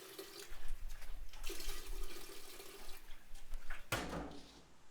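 About 2.5 gallons of water is poured into a home-brew kettle on brew day for a West Coast IPA. A continuous rushing splash swells and fades in several surges, then ends with a louder final gush.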